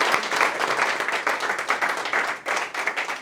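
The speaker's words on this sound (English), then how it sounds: "I want everybody please give a huge round of applause for Tayyiba Tabassum ma'am." An audience at a public speaking competition gives a warm round of applause, a dense, continuous clatter of many hands that dips briefly before carrying on.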